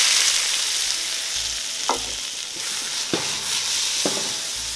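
Garlic fries in a pan until golden, giving a steady close sizzle broken by a few sharp scrapes and knocks of a utensil stirring, without any speech.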